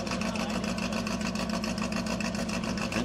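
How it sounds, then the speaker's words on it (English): Vintage 4-cylinder gas Lakester race car at El Mirage dry lake, a loud, steady, throbbing engine drone close by with no talk. "That is a vintage 4-cylinder gas Lakester."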